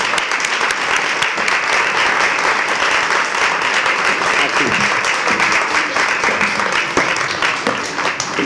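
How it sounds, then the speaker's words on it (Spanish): An audience at a lecture applauds steadily, a dense patter of clapping that holds at even loudness throughout. "Un aplauso"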